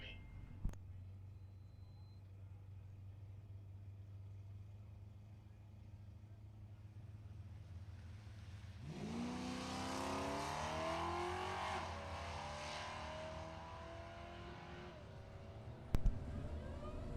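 A Dodge Magnum and a 1992 Mustang launch in a Street Eliminator drag race round: after a low idling drone, engines surge into a loud rising roar of climbing revs that holds for several seconds, then fades.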